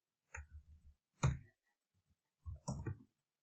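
Typing on a computer keyboard: short clusters of close, crisp key clicks in quick rhythmic runs, separated by brief pauses, heard alone and fairly quiet.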